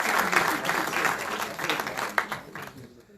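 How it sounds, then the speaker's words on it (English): An audience bursts into applause at a conference closing ceremony, a dense, close wash of many hands clapping that swells and then thins out over a few seconds. "Please give them a big clap."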